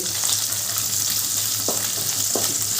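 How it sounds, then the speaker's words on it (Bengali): Steady hot-oil frying of tangra and pabda fish with a dense sizzling hiss and a couple of sharp pops, close by, no talking. "ট্যাংরা মাছ পাবদা মাছ এগুলো কিন্তু তেলে দিলে একটু ফাটে"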